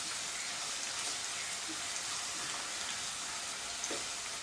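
Green chilies sizzle in hot oil as fried rice is cooked, a steady, dense hiss filling the whole stretch with faint crackles and no talk.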